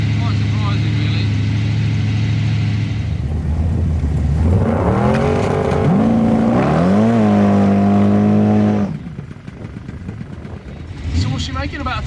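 A 1000bhp V8 Chevy Fastback drag car drives with a deep, loud engine burble that climbs in pitch as it revs and shifts, then drops away, while people talk over and after it.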